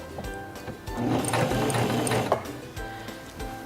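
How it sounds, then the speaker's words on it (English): A Singer Simple 3232 sewing machine stitches fabric, its needle mechanism whirring in a steady fast clatter that swells in the middle and eases near the end, close and alone without talk. "Release the reverse lever and sew to the end."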